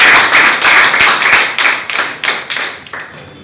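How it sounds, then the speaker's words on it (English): Students in a classroom activity clap together in a short, uneven burst of hand claps that is close and fairly loud, then gradually thins out and fades over a few seconds. "Give them a big round of applause"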